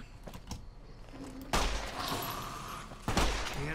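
Gunfire from the companion Boone in the video game Fallout New Vegas, two loud, close shots about one and a half seconds apart, each with a trailing echo, over quieter background sounds.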